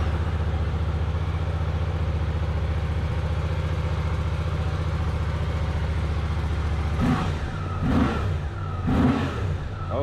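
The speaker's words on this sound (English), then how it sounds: "Into neutral, start the bike up." A Suzuki GSX-8R/S motorcycle with an airbox mod idles with a steady low rumble, then gives a few sharp throttle blips that rise and fall near the end, close and fairly loud.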